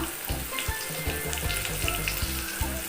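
Ground spices sizzle in hot oil with ginger and garlic, a dense close crackle that carries on steadily with faint low rumbling underneath.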